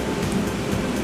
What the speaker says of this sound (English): So when the rain is so strong,